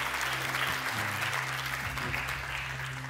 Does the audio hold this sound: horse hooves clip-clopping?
no